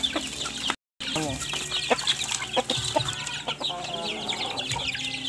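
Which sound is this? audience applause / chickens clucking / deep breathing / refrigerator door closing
chickens clucking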